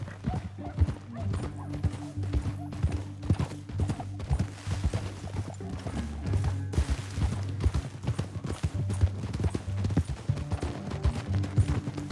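Horse hooves galloping in the video game Red Dead Redemption 2, a steady rapid clatter of hoofbeats that runs the whole way over a low rumbling music bed, with scattered louder thumps.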